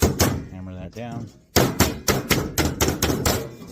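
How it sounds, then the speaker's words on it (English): A regular hammer taps a Pittsburgh seam on sheet metal HVAC duct, a quick pair of sharp hits, a pause, then a rapid series of ringing metallic taps, close up. "We can probably use our regular hammer for this part."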